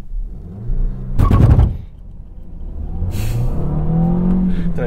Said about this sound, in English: let's do a quick 0 to 60 here